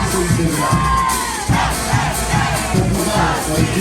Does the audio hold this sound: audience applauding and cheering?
yes